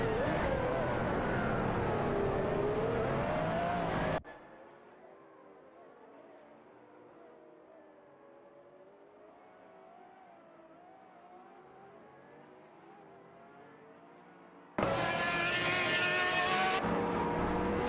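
A tight pack of race cars in a racing video game roars loudly for a few seconds, then drops to a muffled, distant engine drone, then bursts back to full volume near the end.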